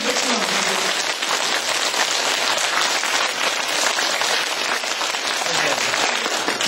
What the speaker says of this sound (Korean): 그래서 다시 한번 박수 쳐볼게요.